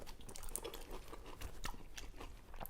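Crisp crunching and chewing from biting into a Scottish deep-fried haggis pizza crunch, close and fairly quiet, with no talk.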